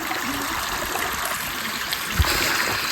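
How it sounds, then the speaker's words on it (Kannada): A steady, close wash of flowing water from a small mountain stream on the Kumara Parvatha trek in Karnataka. The stream runs continuously, with one brief thump partway through. "ಇಲ್ಲೇ ನೀರು ಹರಿತೈತದು."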